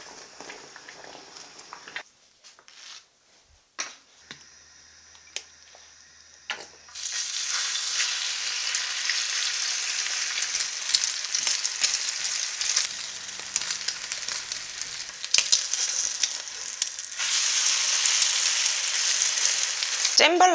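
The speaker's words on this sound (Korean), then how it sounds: "그냥 식빵 구워줄게요. 버터 있으시면 버터로 구워주세요." Bread toasts in butter in a pan, a steady close sizzle starting after a few seconds of quiet handling noises and continuing to the end.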